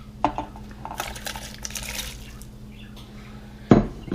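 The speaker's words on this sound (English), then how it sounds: "Now I'm going to add it back to the crock pot." Chunks of elk heart dropped back into a crock pot, giving a few soft clinks and splashes followed by a loud clatter of the pot or its lid near the end, close by with no talking.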